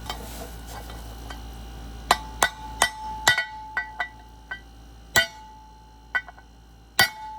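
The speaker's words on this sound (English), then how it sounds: "tap it with a hammer." A hammer taps a press-fit bypass valve into place on the fuel system of a 12-valve International engine: about a dozen crisp, ringing metallic clinks come at uneven intervals, close up, with no talking.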